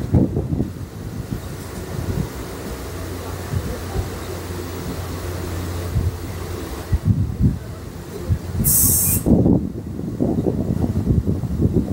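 Interior of a local passenger train running from Sealdah toward Dankuni, with a steady low rumble and droning hum, wind-like rushing, and a few louder clanks and bumps near the end.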